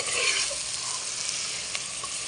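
Mutton pieces stirred and fried in oil with spices crackle in a bright, steady, close sizzle with a few stirring scrapes and no voices.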